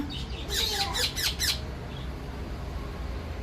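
A young pet parrot gives a quick run of harsh, loud squawks close by, then falls quiet with only faint room noise left.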